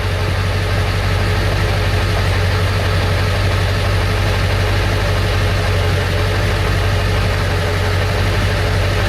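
A 1999-2003 Ford F350 Super Duty dually with a 7.3 Powerstroke diesel running steadily, a loud, constant low rumble that never changes and has no voices over it.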